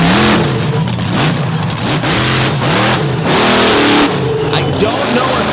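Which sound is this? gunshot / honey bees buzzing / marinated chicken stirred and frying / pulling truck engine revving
pulling truck engine revving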